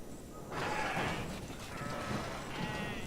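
Sheep bleat in the video game Kenshi, two drawn-out cries, the first louder, over a low background hum; no one speaks.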